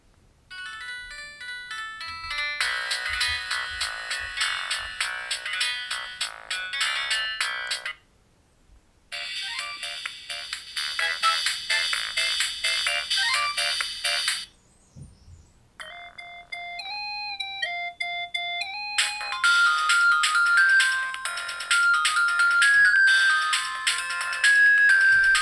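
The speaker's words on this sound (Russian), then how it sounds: "Ну и естественно, послушаем эту немецкую 40-тональную полифонию." A Siemens S65 mobile phone plays a series of 40-tone polyphonic ringtone melodies, bright synthetic electronic tunes in several separate passages with brief silent gaps between them, loud and close with no talk.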